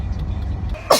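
A single short sneeze bursts out near the end, during a Covid-19 nasal swab test, close and loud over a steady low rumble of background noise.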